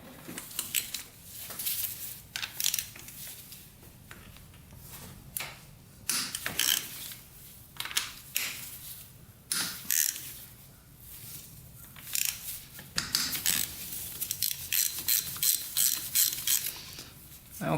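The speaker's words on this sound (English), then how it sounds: "now we gotta get these bolts off right here, and then the whole head can come off" Cylinder head bolts come off a Honda 400ex quad engine with close metallic ratcheting and clicking bursts, tools clinking against metal in irregular spurts, with a quick run of rapid ratchet clicks near the end.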